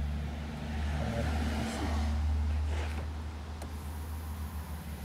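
Hydraulic suspension pump running as the circuit is depressurized, a steady low mechanical hum and drone with a swelling whoosh of fluid, close and continuous, no talk.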